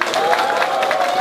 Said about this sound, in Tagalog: Milyon palakpak!